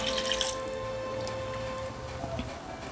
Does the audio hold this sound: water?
yes